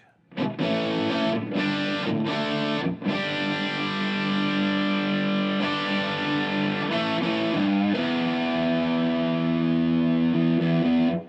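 Loud, heavily distorted electric guitar chords ring out through an HT50 Club amp head on a British-voiced setting, sustained and changing every few seconds, played alone.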